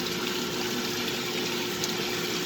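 A 1966 Frigidaire Rollermatic washing machine filling with water through its rebuilt water valve, a loud, steady, continuous rushing gush with an even hum beneath it and no variation.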